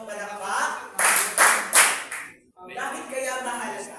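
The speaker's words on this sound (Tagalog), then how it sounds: "Mahusay, bigyan natin siya ng 3 palakpak" A classroom gives three quick, loud, unified claps in a row, separated by brief talk from the teacher before and after.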